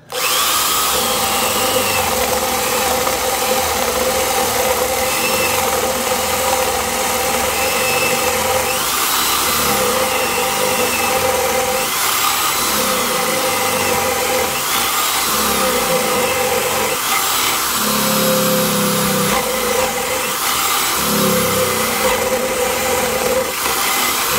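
A Milwaukee 0102 1/4-inch cordless drill whines loudly and continuously as it bores into material, its pitch dipping and rising as the bit bites and clears.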